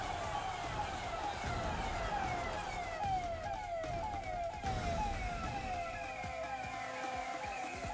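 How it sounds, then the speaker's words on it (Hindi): An ambulance siren wails steadily behind a prime minister's road show convoy, its rising and falling sweeps repeating loudly and continuously over road noise throughout. "रोड शो के दौरान मोदी के काफिले के पीछे एक एम्बुलेंस आ रही थी।"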